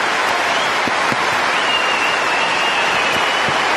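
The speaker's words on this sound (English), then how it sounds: "the crowd really responding as they should to 2 magical points" Dense, steady applause from a large tennis stadium crowd at the Australian Open, a continuous loud patter of clapping with no break.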